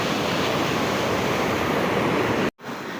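Big ocean waves roar continuously against the shore in a loud, broadband rush with wind buffeting the microphone, cutting out abruptly for a split second near the end before resuming.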